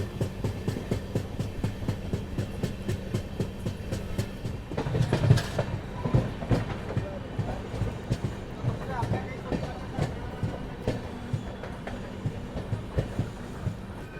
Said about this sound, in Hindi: मैनपुरी जंक्शन स्टेशन फिलहाल अपनी गाड़ी पहुंची है।